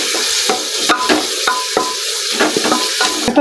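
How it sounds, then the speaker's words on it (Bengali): Onion fries in oil for a bitter gourd and jackfruit seed dish, a steady sizzle with a spatula scraping and tapping the pan in irregular strokes, close and clear with no talking. "এখন পেঁয়াজটাকে তেলের মধ্যে ভালো করে একটু ভেজে নিচ্ছি"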